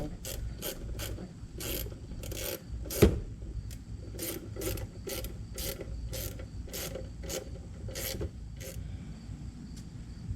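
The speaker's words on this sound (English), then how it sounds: "just tightening my bolts" Ratchet wrench tightening bolts while reassembling a Concours: rapid repeated clicking pawl bursts in quick strokes, close and fairly quiet, with a single sharp knock partway through and no speech.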